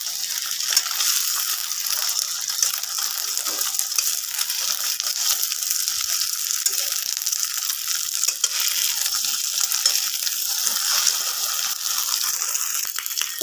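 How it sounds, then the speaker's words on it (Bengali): Boiled eggs fry lightly in oil in a pan, a steady, bright sizzling hiss held close and even throughout with occasional small crackles, alone without talk. "তো এখানে হচ্ছে হালকা করে আমি ডিমগুলো ভেজে নেব, বেশি কড়া করবো না।"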